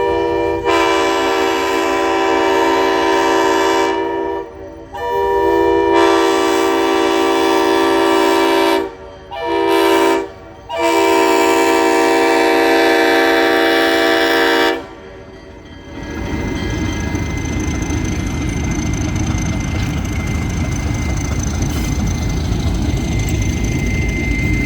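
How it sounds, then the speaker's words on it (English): ALCO RSD-1 locomotive 8652 blasts its RS-5T horn in long chords, loud and near, with brief gaps between sustained blasts before giving way to rumbling train noise as it clears a crossing in the mountains. "The 8652 would be wearing a beautiful RS-5T horn that would echo off of the mountains as the train cleared the crossing"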